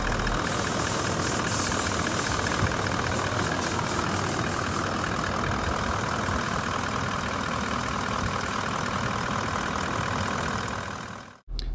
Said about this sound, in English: Just so you can hear the engine running